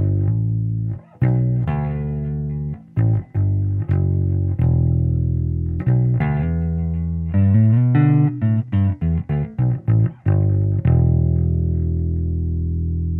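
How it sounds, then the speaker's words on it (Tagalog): Electric 5-string SX SPB62+ jazz bass played through its single-coil neck pickup alone, a warm, full run of plucked notes and short phrases with clear gaps between them, loud and close. "Pakinggan natin yung neck pickup niya."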